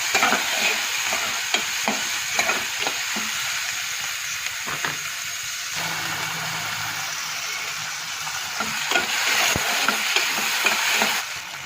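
Onions, tomatoes and spices fry and are stirred in a pan for a Gujarati cabbage and potato curry, giving a steady close sizzle with a string of light scraping stirs throughout and no talking.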